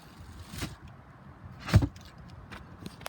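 Cargo floor panel of a black 2021 Toyota Highlander XSE being lifted to reveal storage compartments, a soft scrape and then a louder hollow thump of the panel, followed by faint light clicks, close by and without voices.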